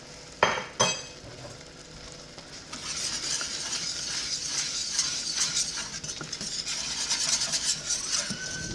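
Apple pie filling being stirred with brown sugar, a steady scraping, sizzly stirring close by after a couple of sharp knocks at the start, continuous with no talk.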